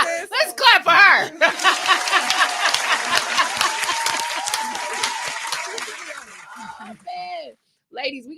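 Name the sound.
clapping for a guest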